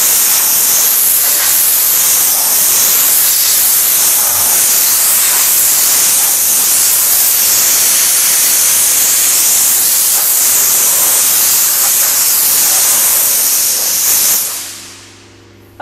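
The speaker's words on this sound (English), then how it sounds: "Now, we use the steam to wipe the table," A GOCLEAN steam cleaner blasts a continuous loud hiss of steam across a tabletop for the whole stretch, then cuts off abruptly near the end, leaving quiet.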